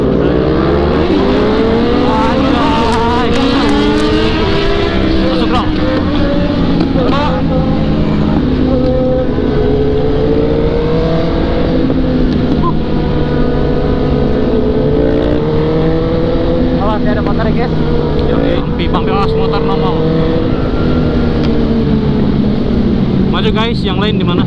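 Several 1000cc motorcycles accelerate hard through corners on a mountain road at Ciwidey, engines revving loud and continuous throughout, with people talking over the roar.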